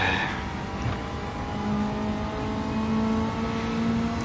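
Race car engine in a racing video game, a steady loud drone with a held tonal whine and faint tyre scrub, no voices over it.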